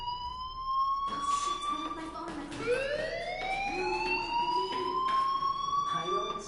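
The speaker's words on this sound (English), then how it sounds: "do you hear that fire alarm? That means you should be outside." A fire alarm wails in the video game Life is Strange, a rising and falling electronic siren sounding continuously over faint background talk.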